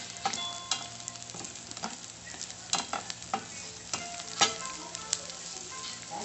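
Garlic frying in a pan, a steady soft sizzle with scattered crackles and pops and occasional stirring scrapes, fairly quiet and close.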